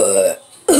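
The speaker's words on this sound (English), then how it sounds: "Am I about to burp?" A single short, close burp from a child's toy, sitting between two bursts of nearby voiced sound.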